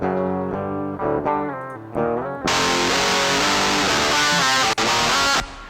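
A heavily distorted electric guitar chugs through a high-gain metal amp simulator plugin, STL Ignite Emissary, without a cab plugin, following a few cleaner picked notes, loud and dense with no voices.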